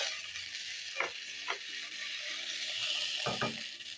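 Garlic and potatoes frying in a pan, a steady close sizzle with a few soft stirring scrapes and taps through the clip.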